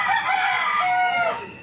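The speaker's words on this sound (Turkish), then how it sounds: "burada canlı tavuklar var" A rooster crows loudly and close among live chickens at a local market in Higuey, Dominican Republic, one drawn-out call lasting under two seconds with no talk.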